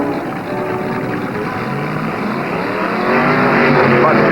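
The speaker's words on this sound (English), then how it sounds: "The Dodge beats the Chevy, and Moser goes into the all-Dodge stock fin" Two early-1960s drag race cars, a Ram Chargers Dodge and a Stalker Chevy with Bill Jenkins driving, roar down the strip together, engines loud, dense and steady, swelling louder toward the end.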